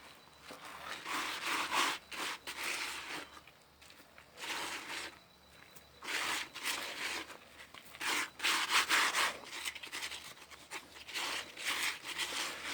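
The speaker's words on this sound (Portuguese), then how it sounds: "Aí agora é só a gente retirar com a mão aqui. Eu vou retirar aqui, ó, terminar de retirar essa areia" A hand scrapes and scoops sand out of a freshly unmolded cement vase in repeated gritty rubbing strokes, close and moderately loud, with short pauses between scoops.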